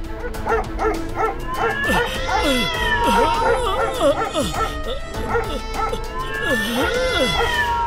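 Cartoon cats meow repeatedly in a continuous, crowded chorus, voiced by performers imitating the animals, mixed with yipping and barking from cartoon dogs.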